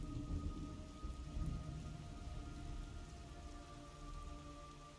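Steady heavy rainfall pours down alongside deep rumbling thunder in the Metal Gear Solid Delta: Snake Eater video game, a dense continuous storm wash with rolling low booms and no voices.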